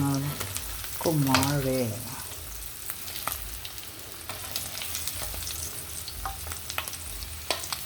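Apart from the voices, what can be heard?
oil spattering while frying smoked fish (tinapa)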